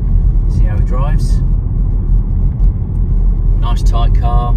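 A 2017 Skoda Octavia 1.6 SE TDI with about 56,300 miles drives along a road, a steady loud engine and tyre rumble filling the whole stretch while a voice talks briefly near the start and again near the end.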